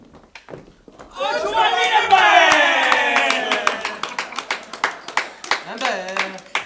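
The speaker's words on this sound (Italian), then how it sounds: "Non mi spiego perché questi applausi." Audience clapping breaks out during a live theatre comedy, swelling into dense sustained applause, then thinning into scattered individual claps as a voice speaks over the fading end.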